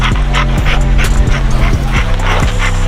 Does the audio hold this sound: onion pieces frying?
no